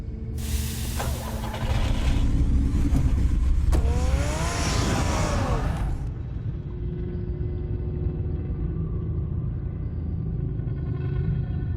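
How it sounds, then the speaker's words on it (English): Batman's car in Telltale's Batman game, a loud engine roar with rising revs and a hissing rush that cuts off sharply, leaving a low idling rumble underneath. "Get the car ready, Alfred."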